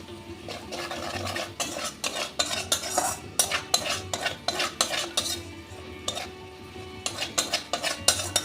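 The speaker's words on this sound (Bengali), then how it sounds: "দিয়ে অল্প একটু ভেজে নেব বেশ একটা ভাজা ভাজা গন্ধ বেরিয়ে গেছে" A spoon scrapes and clinks repeatedly against a pan in quick, uneven strokes while ground cumin and Kashmiri chili powder fry with a soft sizzle underneath, for a katla fish kalia.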